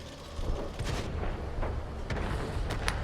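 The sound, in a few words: tank cannon firing in video game World of Tanks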